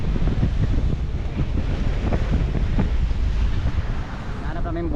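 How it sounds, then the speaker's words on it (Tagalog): Deep ocean waves in the West Philippine Sea, heard from a boat as a continuous, rumbling wash of water mixed with wind buffeting the microphone, steady and fairly loud throughout. "Lalim ng mga alon dito."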